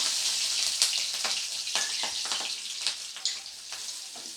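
Black cumin and green chilies fry in hot mustard oil, giving a steady close hiss and sizzle with small crackling pops scattered throughout, no voices over it.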